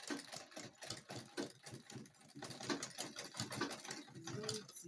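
A sewing machine stitches through a thick drawstring kaftan dress with a fast, close, steady chattering rhythm of needle strokes that carries on throughout, fairly quiet, with no talking.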